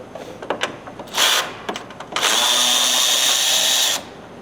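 Power drill or impact tool spinning a deep 10 mm socket to loosen a bolt on a Ford 6.7 diesel truck, with a short burst followed by a longer steady whirr, loud and close.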